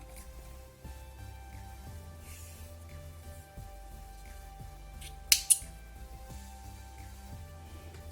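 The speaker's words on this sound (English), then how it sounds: "make sure you have a long tail and then cut your yarn" Scissors snip through crochet yarn in two quick, close cuts against a quiet background with faint rhythmic thumps.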